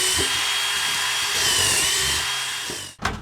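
A power drill whines steadily at high pitch, driving screws into pole barn batten, close and loud, then stops with a short clunk of handling at the end.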